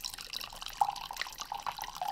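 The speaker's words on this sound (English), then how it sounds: "we're going to pour a little bit of this wine in here into the glass" Wine poured into a glass at home: a thin, trickling liquid stream with small splashy drips, fairly close and quiet, no talking.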